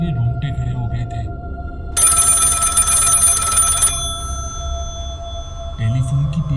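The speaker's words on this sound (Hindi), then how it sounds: "टेलीफोन की तेज आवाज़ से मेरा ध्यान उस टीवी से हट गया" A telephone rings loudly and harshly for about two seconds in the middle, over a low background hum, with a voice speaking before and after it.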